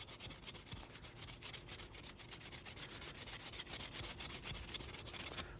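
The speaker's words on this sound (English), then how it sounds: "just grind that bevel. Until you bring up your burr on the inside." A blade bevel being ground during sharpening, a steady rhythmic rasping scrape repeating several times a second, close and continuous with no talk.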